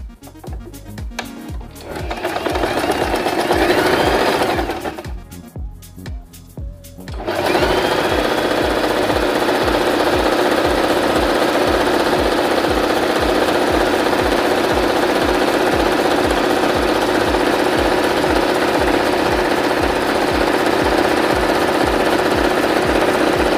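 A sewing machine runs a regular stitch through turban hat fabric, a fast steady mechanical chatter lasting most of the time, with a short pause and some handling noise near the start.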